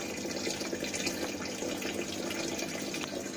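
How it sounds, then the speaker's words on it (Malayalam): Water carrying live moina being drawn up into a small 6 ml syringe, heard as a steady close trickling, watery hiss without talk. "ഈ സിറിഞ്ച് വെച്ച് ഇത് മൊത്തത്തിൽ ഞങ്ങൾ വലിച്ചെടുക്കാം."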